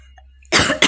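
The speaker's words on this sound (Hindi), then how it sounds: "खांसी ने मुझे परेशान कर रखा है" A woman with a troublesome cough gives a sharp, loud cough out of near silence, followed quickly by a second shorter one, both close up.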